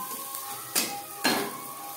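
Mango pieces frying in a pan for masoor dal give a steady, close sizzle, broken twice by brief bright scrapes of stirring.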